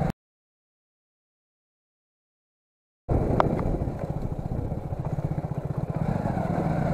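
A motorcycle riding along a road, with a steady close engine drone and rhythmic throbbing that starts abruptly after about three seconds of silence and continues to the end.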